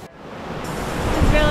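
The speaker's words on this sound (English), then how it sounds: "Oh wow, this is a really wide beach." Broad, steady surf rolling in on the wide sandy shore of Playa Brava beach on Culebra, Puerto Rico, a continuous wash of waves and wind that swells slightly louder toward the end, with no talk over it.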